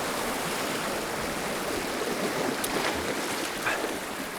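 Sea waves churn into white foam at Ballydowane beach, a steady, even wash of surf noise filling the whole clip with no distinct breaking crashes.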